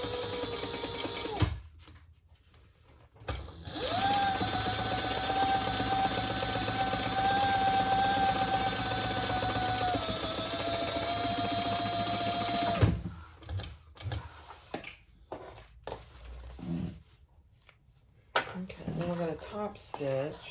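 A sewing machine top-stitches a seam on a crossbody bag, running as a steady, fairly loud whir for about nine seconds. Brief handling noises come before it, and a person talks after the machine stops.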